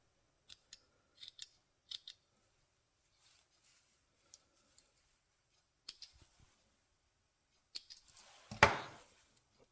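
Scissors snip through rope strings in a few crisp, separate cuts with quiet pauses between them, ending in a louder, longer crunching cut close by.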